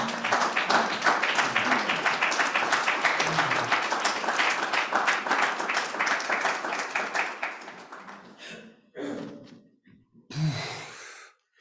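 Applause from a poetry-reading audience for a poet named Roger, a dense round of clapping with some cheering that fades after about eight seconds into a few scattered claps and a last brief burst.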